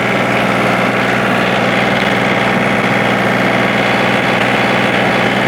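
A Kubota LX3520 or John Deere 2032R compact tractor engine runs steadily in low gear at fairly high revs, a loud, continuous close-up drone with constant vibration and no pauses throughout.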